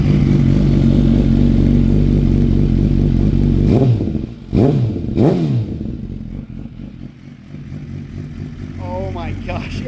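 Suzuki GSX-R1000 motorcycle with a full M4 exhaust, idling deep and loud up close, then a few sharp throttle blips that rise and fall before settling back to a steady idle.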